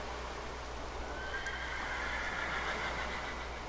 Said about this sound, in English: They have a stable with unique horses, imperial horses as you'd like to call them.